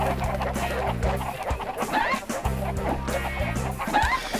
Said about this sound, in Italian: Ecco qua, 7 galline, venite.